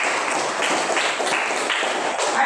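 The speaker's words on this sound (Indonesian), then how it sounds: "kita tepuk tangan dulu" A group claps in a steady, even patter for a couple of seconds, close and fairly loud, with no talking over it.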